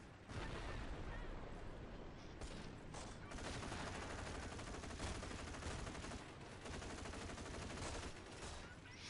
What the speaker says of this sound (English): I wanted to hear the gunshots.